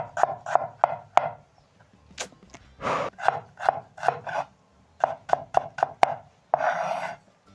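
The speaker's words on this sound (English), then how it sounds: "I'm going to chop the onion in half and slice lengthwise." A knife chops a small onion on a board, halving it and then slicing it lengthwise for a Ugandan street-food rolex. Sharp, close cuts fall in quick rhythmic bursts separated by short pauses, with no talking.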